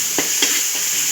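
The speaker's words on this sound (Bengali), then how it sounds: "এবার সুন্দর ভাজা হয়েছে পেঁয়াজে," Onions fry in a pan for a Bengali-style fish curry, with a continuous bright sizzle and a few quick scrapes of stirring on top, close and fairly loud, with no talking.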